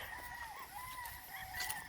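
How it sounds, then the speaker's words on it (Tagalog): Chickens cluck and a rooster crows around a rural lot in the Philippine countryside, the calls rising and falling over steady outdoor ambience across two seconds with no talking. "at saka hayop, mga manok, pa-project tayo dyan"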